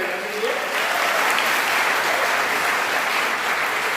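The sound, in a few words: audience applause at a poetry gathering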